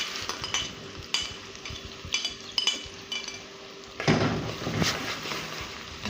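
Chopped medium onion dropped into a pan for kofta and starting to fry: a steady sizzle with clinks and scraping of stirring, growing louder and denser partway through, close by.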